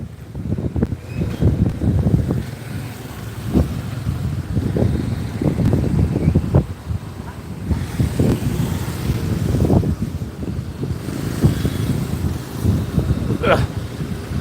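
Gusty wind buffets a microphone by the sea, heavy low rumbling blasts rising and falling in irregular waves, with a person talking faintly underneath.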